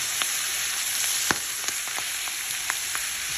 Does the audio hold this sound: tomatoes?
yes